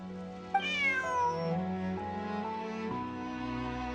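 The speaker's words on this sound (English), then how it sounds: "Bonnie is Pierre's cat." A cat meows in the Genshin Impact video game, with one clear, drawn-out rising and falling meow heard alone, backed by a steady low music bed.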